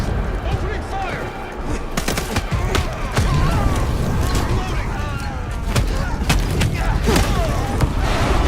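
Dense, loud gunfire in a vampire action game on PS5, sharp repeated shots cracking over a rumbling battle din while voices call out.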